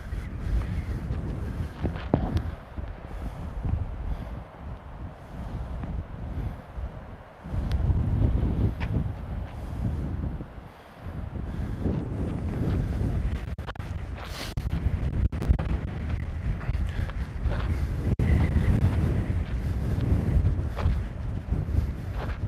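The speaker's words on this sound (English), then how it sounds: "The wind is just very, very bad." Strong outdoor wind buffets the microphone as a continuous loud, low rumble that surges and dips throughout, with no voices.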